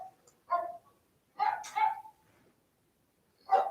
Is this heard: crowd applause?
no